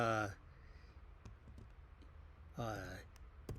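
A computer mouse on a Mac gives a few quick, sharp clicks while creating a new folder, heard close and quiet between brief stretches of a person talking.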